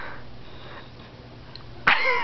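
One sharp, close sneeze bursts out near the end after quiet breathing and room hush.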